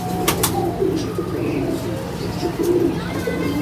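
A pigeon coos softly and repeatedly nearby, low throaty murmurs over a steady background, with a couple of quick sharp clicks near the start.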